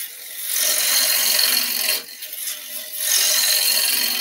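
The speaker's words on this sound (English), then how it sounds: "Bowl gouge. We're going to do pull cut." Bowl gouge taking a pull cut on a spinning wood plate on a lathe, a close rasping shear that runs steadily, breaks off briefly, then resumes.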